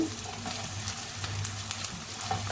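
Ginger garlic paste frying in a pan for masala semiya, a soft steady sizzle with small spitting pops close by.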